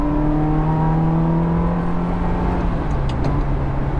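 A manual Ferrari 360 Modena engine drones loudly from inside the moving car, its pitch holding steady before easing down slightly as it cruises.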